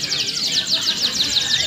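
A young lovebird chirps in a rapid, repeated chattering series of high, sharp calls, loud and close, with a steady hiss underneath.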